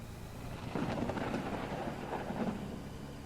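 Steady rain falls in the mining and building video game Out Of Ore, a continuous broadband wash with a low rumble underneath and a slight swell midway, with no voices.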